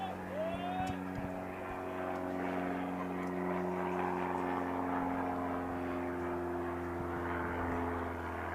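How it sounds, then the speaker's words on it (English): Propeller airplanes droning overhead above an outdoor baseball field during a men's college game, a steady low hum lasting throughout, with distant crowd and field noise and some talk in the background. "Couple of planes out today."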